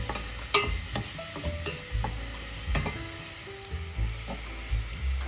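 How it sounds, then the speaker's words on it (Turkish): Chopped onions sauté in an oiled pan for a vermicelli soup, sizzling steadily while a spoon scrapes and stirs them in repeated close knocks. "Soğanı biraz kavuruyorum."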